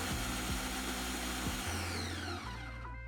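A blender grinds peanuts and salt into creamy peanut butter, a loud continuous whirring with a periodic thumping rhythm as the mix churns, close and steady.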